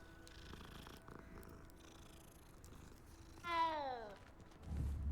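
A cat in the Hogwarts Legacy video game, a faint soft purr under quiet game ambience, broken by a short bright meow-like call near the end.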